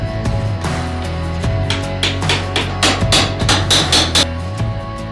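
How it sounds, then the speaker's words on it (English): A sledgehammer lightly taps bathroom floor tile during a toilet removal and demolition, a run of evenly spaced, moderate thuds and sharp cracks up close over a constant low background hum. "why are you using the sledgehammer so lightly?"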